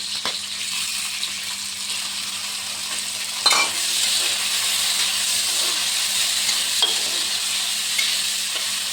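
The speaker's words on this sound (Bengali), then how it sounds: "মটরশুঁটিটা নাড়াচাড়া করে একটু, তারপর টমেটো কুচিটা দিয়ে দেবো" Peas being stirred as they fry in a pan, with a steady sizzle and hiss running throughout and occasional louder scrapes of the stirring utensil.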